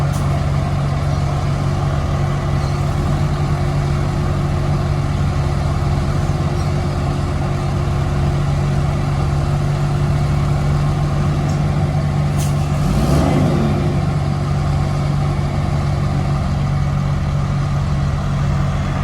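A truck idles and runs steadily while maneuvering a mobile home trailer during loading, its engine a constant low rumble throughout with a brief hiss-like burst partway through.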